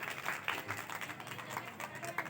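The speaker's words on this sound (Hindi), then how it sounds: "एक बार ताली बजा दीजिए।" An audience at a Ram Katha religious gathering claps together, a soft, steady patter of applause from a hall of listeners heard at moderate distance.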